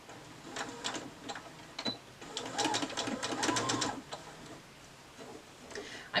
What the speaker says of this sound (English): And I'm going to sew this all the way around.